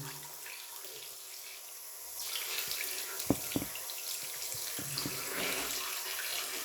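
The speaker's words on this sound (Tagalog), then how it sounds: "So, ato na siyang banlawan." Water runs from a tap while something is rinsed, a steady hiss that swells louder partway through, with a couple of sharp knocks against the sink, close by and without talk.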